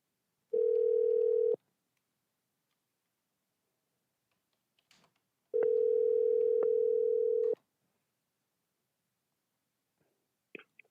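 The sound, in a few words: telephone ringing on an outgoing call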